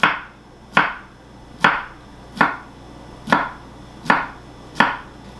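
A knife slices a cucumber into thin, long strips on a cutting board for a salad, giving seven crisp, evenly spaced chops close up with no talking.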